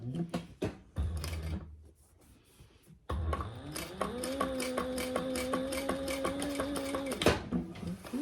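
A sewing machine back stitches a bag seam, a loud steady mechanical whir running for about four seconds after a few short taps and a quiet pause, with no talking.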